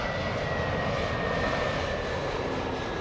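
A fixed-wing airliner landing at LAX gives a steady, broad engine roar with a thin whine riding on it, loud and unbroken throughout.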